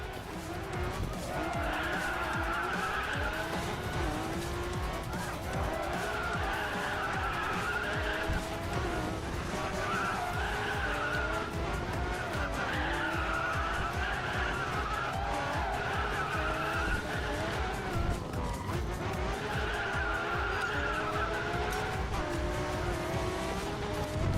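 Honda NSX-R in the Racing Master racing game, its engine droning steadily with sustained tire squeal and skidding through corners, loud and continuous for the whole stretch.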